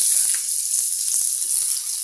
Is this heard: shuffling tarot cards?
no